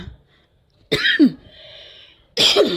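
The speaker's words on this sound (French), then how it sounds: "Moi, avec la toux, c'est ça ma croix." Two sharp coughs separated by a short pause, close and loud, with a faint low hum between them.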